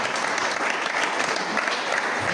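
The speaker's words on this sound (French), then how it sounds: "C'est timide l'applaudissement." Applause from an audience at a film screening and culture debrief, steady dense clapping throughout the short stretch, moderately loud and fairly even, with no clear voices over it.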